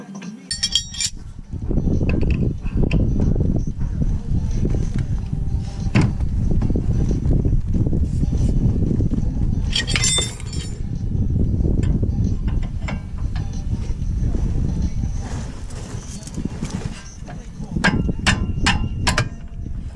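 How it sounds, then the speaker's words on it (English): A wrench works loose the tie rod jam nut on a Dodge 2500, giving a dense low rumble of effort broken by sharp metallic clinks at the start, midway and in a quick cluster near the end. "You got to break this nut loose."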